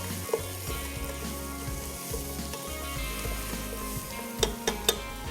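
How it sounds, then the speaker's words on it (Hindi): Ingredients for mutton pulao sizzle and fry in a pan, a steady crackling hiss under a low hum, with a few sharp clinks of a utensil against the pan near the end. "अच्छे तरीके से इसको फ्राई करना है।"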